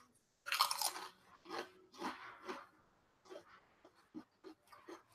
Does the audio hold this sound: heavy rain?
no